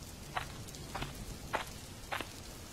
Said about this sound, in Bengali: বৃষ্টি তো থামছেই না।